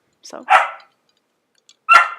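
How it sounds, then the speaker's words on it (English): Small puppy barking close by: a couple of quick high yips running into a sharper bark, a pause, then one more bark, with a brief spoken word at the start. "that's my dog, my little puppy"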